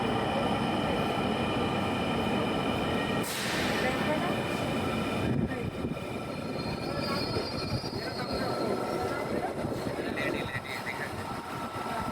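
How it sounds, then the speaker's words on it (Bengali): A Dhaka metro rail train pulls into a station, its loud continuous rumble and wheel noise filling the platform, with a sharp hiss partway through and voices faintly mixed in. "এই যে দেখেন ট্রেন চলে আসছে"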